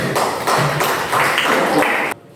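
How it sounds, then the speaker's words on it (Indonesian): Classroom applause: a burst of continuous, fairly loud clapping from many hands that carries on for about two seconds and then stops abruptly. "Oke, mari kita berikan aplaus."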